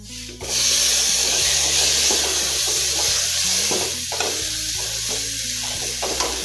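Tomatoes sizzle in a hot pan for a pumpkin curry while a spoon scrapes and stirs them, close, loud rubbing strokes over a constant frying hiss.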